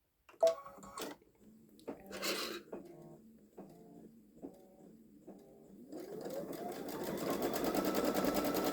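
A Babylock Solaris embroidery machine stitches a zigzag edge around a large appliqué patch, starting with a few separate bursts of needle clatter, then settling into a steady, close, rapid mechanical stitching whir.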